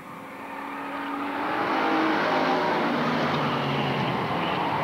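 Bomber stock cars race around Lakeport Speedway, a loud roar of engines building and sustaining as the pack passes, with revving and faint tire squeal and no voices.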